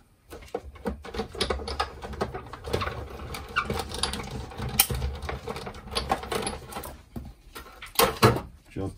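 A die cutting machine feeds a card sandwiched between acrylic plates, producing a continuous run of mechanical clicks, ratcheting and grinding rollers with uneven bumps and a few sharper knocks near the end.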